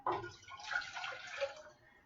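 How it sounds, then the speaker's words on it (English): About two cups of water pour into a cooking pot for quick-soaking dried chickpeas, a close, splashy rush that lasts nearly two seconds before tapering off. "I've got about 2 cups of water here. I'm going to put it in this pot"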